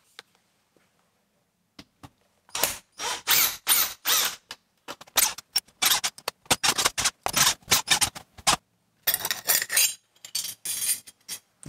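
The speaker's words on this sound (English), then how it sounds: "I'm going to take off these old latches" Screwdriver removing old metal latches from a kiln: close, irregular scraping, clicking and metallic clinks in short bursts after a near-silent start, with no talking.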